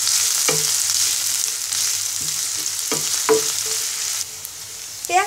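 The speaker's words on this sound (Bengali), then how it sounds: "পেঁয়াজটাকে ব্রাউন কালার করে ভেজে নিব।" A cup of chopped onions fries in hot soybean oil until browning, a loud, continuous hiss punctuated by several scraping stirs of a spatula against the pan.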